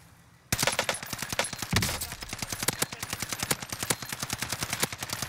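Rapid gunfire in the video game Warzone: after a brief quiet start comes a dense string of loud, evenly spaced shots, with a heavier blast near the two-second mark and no talking.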